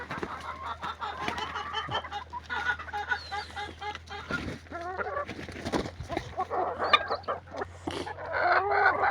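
Chickens cluck steadily, with occasional louder squawks breaking through, close by and continuous.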